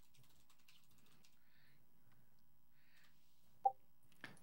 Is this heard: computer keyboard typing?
yes